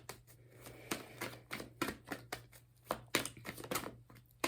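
A deck of tarot cards is shuffled by hand, a quick series of soft, close riffles and flicks in an uneven rhythm with no talking.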